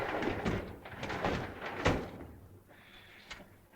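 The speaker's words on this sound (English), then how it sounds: "Excuse me while I open the window." A window is pushed open indoors in a 1937 film scene, a brief scraping and sliding rumble with a soft knock, followed by quieter room noise.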